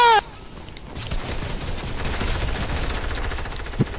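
Rapid automatic gunfire in Fortnite, a dense rattling burst of shots that starts after a brief squeal and keeps going steadily at close range, with faint background voice.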